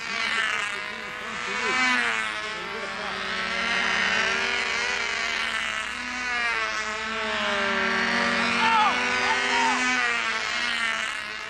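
A Brodak Cardinal control-line model airplane's small glow engine screams steadily in a clown race, a loud continuous high-pitched whine that wavers in pitch as the plane circles, with voices talking over it.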